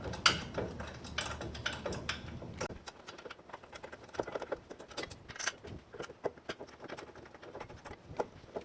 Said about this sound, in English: So what I'm going to do here is I'm going to put this first bolt in.